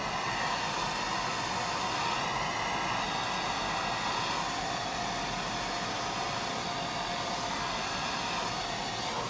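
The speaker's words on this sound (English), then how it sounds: "But first we have to dry our hair." A hair dryer blows steadily while hair is dried at home before styling, a loud, constant close-up whoosh of air filling the whole stretch with no talking.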